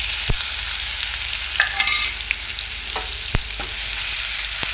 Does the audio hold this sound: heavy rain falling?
no